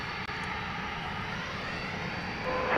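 Southwest airliner arriving from Austin and landing at Dallas Love Field: a steady, fairly close jet engine roar with a rising whine, swelling slightly at the end.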